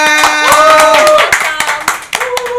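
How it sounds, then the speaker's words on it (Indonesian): Brief bursts of audience clapping ring out over loud music, a few sharp claps then scattered ones as the music fades. "Oke, tepuk tangan semuanya"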